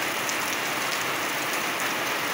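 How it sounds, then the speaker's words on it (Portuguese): Heavy rain pours steadily onto the houses of a city on a cold Sunday, a dense, continuous hiss of drops with no break or voices. "Esse barulho de chuva é muito bom"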